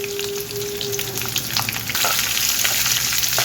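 Onions, dried red chillies and garlic fry with lentils in a pan, crackling and sizzling steadily with scattered pops and a louder burst of stirring midway, close and without voices.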